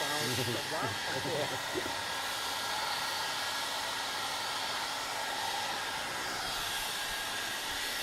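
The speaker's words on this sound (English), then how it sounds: "Use slow mode video effect with me blow drying my hair." A hair dryer blows hair in a steady, loud, continuous whooshing hiss that runs unbroken throughout, with brief rustling near the start.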